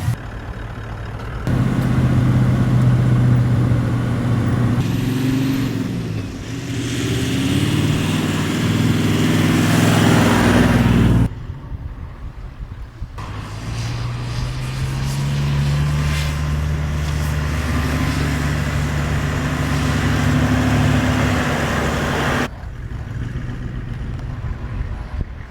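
A car engine labours steadily while reversing a caravan onto soft sand at a campsite, a continuous low drone that rises and eases in long stretches with brief drops between pushes.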